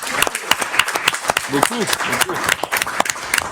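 An audience at a public municipal council session claps in scattered, uneven bursts for a few seconds while a voice speaks over the applause.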